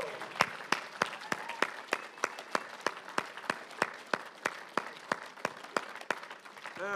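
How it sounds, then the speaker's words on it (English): A church congregation at a Sunday morning service claps together in a steady, even rhythm of about three to four claps per second, sustained and fairly close. "let's give Jesus a clap"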